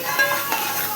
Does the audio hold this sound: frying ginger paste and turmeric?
yes